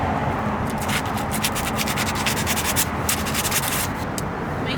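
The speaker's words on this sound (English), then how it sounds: "I'm using sandpaper to remove the rust." Sandpaper scrubs rust off the front brake parts of a 2005 second-generation Toyota Prius, a steady close-up rasping scratch running continuously with rapid back-and-forth strokes and no talk.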